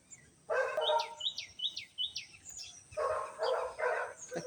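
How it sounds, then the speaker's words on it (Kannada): Several birds sing and chirp outdoors on a sunny day, with a run of repeated bright whistled notes followed by fuller bursts of chirping, fairly close and clear with no talk. "ಪಕ್ಷಿಗಳ ಹಾಡು"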